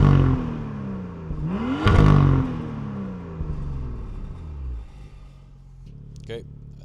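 A BMW F87 M2 with M Performance exhaust in Sport Plus mode with valves closed revs up and falls back, a deep rumbling engine swell peaking briefly then settling to idle, close and moderately loud.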